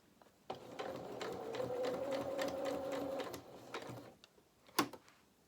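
Sewing machine running a steady stretch of stitches on an Easter bunny treat bag with lining, a continuous close mechanical whir that stops, followed by a few sharp clicks.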